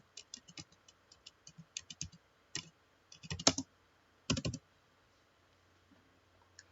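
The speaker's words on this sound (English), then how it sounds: "Hold on, let me type the correct article." Keys clatter on a computer keyboard in short, uneven bursts of clicks. Brief gaps separate the bursts, and a few louder strokes stand out. The typing is close and fairly quiet, with no voices.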